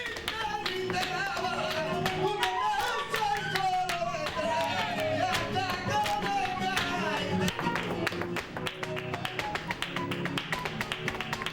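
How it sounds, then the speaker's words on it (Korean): Rhythmic hand clapping with guitar accompaniment at a flamenco performance in a Seville tablao, sharp dense claps keeping a driving beat over plucked guitar notes. "기타 반주와 박수 소리에만 맞춰 춤을 추는 여자 무용수"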